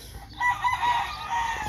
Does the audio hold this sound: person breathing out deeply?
no